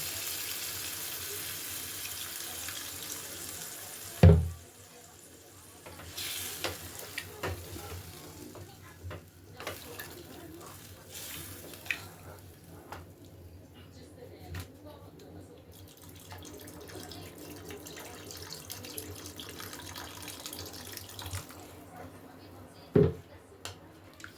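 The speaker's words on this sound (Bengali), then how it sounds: "এবারে জল দিয়ে দিলাম" Water is poured into a pan of simmering egg and cauliflower curry, with a sharp splash early on, then quiet stirring and faint sizzling, and another brief splash near the end.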